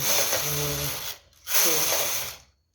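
Knitting machine carriage run across a row of a school sweater front, a loud rattling mechanical rumble that stops briefly and then runs again, close and alone.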